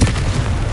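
A Confringo fire spell bursts in Hogwarts Legacy, a loud, close, sustained blast of booming explosive rumble filling the whole moment without any voices.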